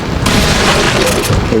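Gunfire from a handgun in the Resident Evil 4 video game, played on an emulator: a loud, dense burst of shots and booming impacts packed tightly together, filling the whole stretch with no voice audible.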